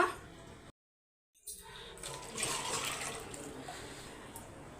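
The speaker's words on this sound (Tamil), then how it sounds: "இதில் ஒரு தண்ணி ஊற்றிக்கலாம்" Water is poured into a pot of rasam containing ground tomato and garlic, a soft steady splashing stream after a brief silence, fairly faint and close.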